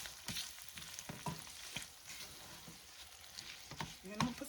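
Garlic butter sauce with parsley and shrimp cooking in a pan gives a soft, steady sizzle and crackle, with scattered light stirring clicks throughout.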